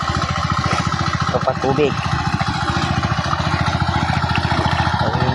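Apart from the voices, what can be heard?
motorboat engine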